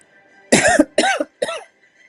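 Three loud coughs in quick succession, close up, with short pauses between them and quiet around them.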